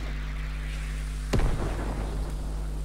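A single sudden rocket blast in a shooter video game's green-only weapon challenge, a sharp broadband crack with a rumbling tail, rising out of steady low game hum and ambient background.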